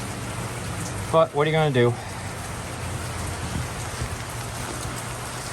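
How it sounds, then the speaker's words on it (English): Steady rain falls outdoors on a 58-degree evening, a constant close hiss of drops on surfaces running throughout, with a voice briefly speaking over it near the start. "It is 58 degrees and raining"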